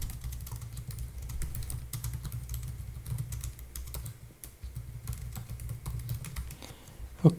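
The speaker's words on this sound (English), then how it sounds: "and I start typing." Keys clatter on a computer keyboard in a steady run of quick, light clicks close to the microphone, with a low hum underneath and no talking.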